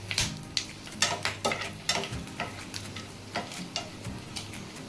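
Whole spices including nutmeg, cinnamon, bay leaf, mace, cardamom and cloves fry in a pan for paneer curry, a light sizzle punctuated by repeated sharp clinks and scrapes of a utensil against the pan, close up and uneven in rhythm.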